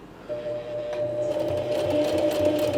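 A sewing machine stitches a coin purse at about a 4 mm stitch length, a close, steady rhythmic hum and clatter that starts after a brief quiet moment and runs on.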